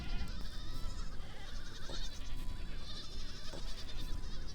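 Goats bleat repeatedly, nannies and kids calling over one another in overlapping cries of varied pitch, fairly faint against a steady rough background noise.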